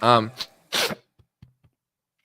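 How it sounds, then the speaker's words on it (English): A single sneeze close by, a short breathy intake then a sharp burst, followed by near silence with a few faint small sounds. "Sneeze really got me."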